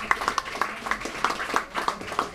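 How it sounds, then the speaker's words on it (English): Applause from an audience at a mind sports board-game championship, a steady patter of clapping hands spread evenly across the moment, moderately distant and fairly faint. "let's give another round of applause to our champions"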